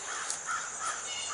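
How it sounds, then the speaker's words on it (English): A crow caws several times in a quick series of harsh calls, fairly clear against quiet outdoor air at a cemetery by a river. "Crow's our mascot."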